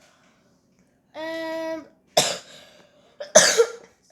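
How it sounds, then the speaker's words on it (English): A person coughs twice, sharp harsh bursts in close succession after a short spoken word, with a lingering cough that won't go away. "I still have this cough that won't go away."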